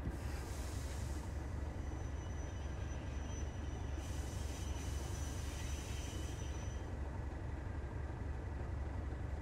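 Class 37/7 diesel locomotive shunting in Train Sim World 3, a steady loud rumble of engine and rolling wheels with a thin high squeal running through it, continuous and close, with no voices.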